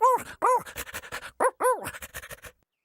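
A cartoon dog pants in quick, breathy, voiced bursts, close and fairly loud, with a few longer yelping sounds and brief pauses between them.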